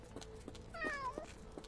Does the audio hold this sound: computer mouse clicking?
no